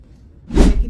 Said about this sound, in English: now we're going to do our setting spray